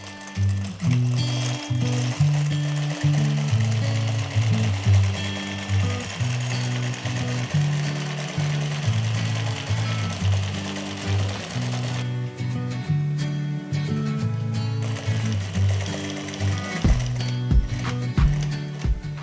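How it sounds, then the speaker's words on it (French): A zigzag-stitch sewing machine sews bags in a workshop, giving off a close, rhythmic mechanical chatter in repeated bursts with short pauses between runs. "on a une machine qui fait des coutures en zigzag"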